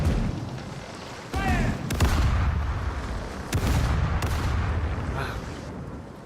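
Cannons fire a broadside in a naval pirate video game, several heavy booms in close succession followed by a rumbling sustained roar, loud and near.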